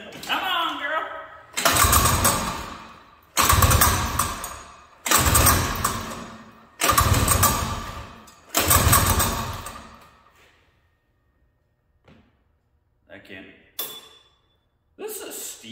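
A 1972 Massey Ferguson Ski Whiz snowmobile with a steel recoil cord is pulled over five times in a row. Each loud burst of pull-starting and engine sputter stops abruptly, leaving quiet with scattered faint knocks afterward.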